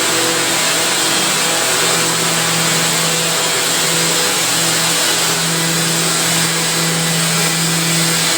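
Spindles on an elastic-making machine spin at 24,000 rpm, giving a loud, unbroken high-pitched whine and mechanical hum that holds steady throughout with no pauses.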